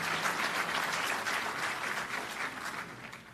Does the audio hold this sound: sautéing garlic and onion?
no